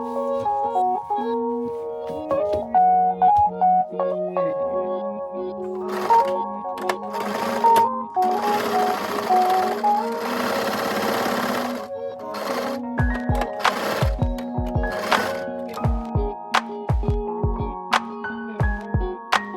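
A sewing machine stitches a man's shirt during a refashion into a fitted dress, running loud and close in bursts of rapid mechanical clatter that stop and start, ending in a string of sharp separate clicks.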